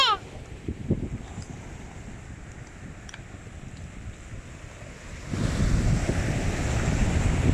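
Sea waves wash ashore at a beach amid steady wind noise, a low continuous roar that swells louder and rougher near the end.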